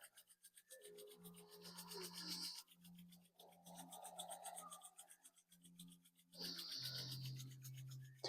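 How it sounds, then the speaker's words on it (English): Palms rubbed together vigorously in a qi gong exercise, a soft continuous rasping friction in long sustained strokes, close and quiet, under a low steady background tone. "Really work those palms together vigorously."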